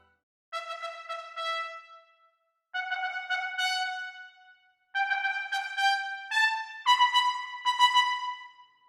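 Orchestral passage from the Synchron Prime Edition library with its mid microphone enabled, heard as three sustained, swelling phrases of rich layered strings and winds, moderately loud and alone with no talking.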